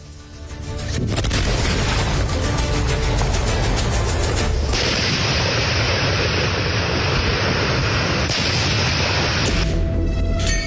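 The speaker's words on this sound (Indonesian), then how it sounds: "ledakan amunisi kadaluarsa di Garut, Jawa Barat" Expired military ammunition explodes in Garut, West Java, in a loud, continuous roar of blasts, heavy and sustained, rumbling on with sharp bursts mixed in.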